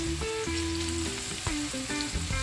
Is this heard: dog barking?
no